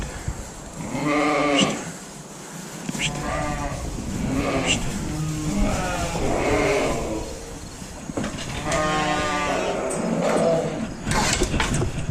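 Ewes and ewe lambs bleat repeatedly in a pen during lambing season, with several close, loud, wavering calls overlapping a constant barn rumble.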